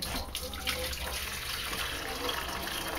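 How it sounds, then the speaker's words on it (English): Cooking liquid from lemon pepper asparagus chicken pours steadily into a pot in a kitchen, a close, continuous watery splash and trickle lasting the whole moment, with no talking over it. "this is the cooking liquid. I'm going to pour that"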